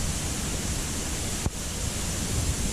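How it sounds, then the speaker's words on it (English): Steady broadband roar of a waterfall in Vietnam, constant and fairly loud with no talk, one brief click near the middle. "But really awesome waterfall, I enjoyed it a lot."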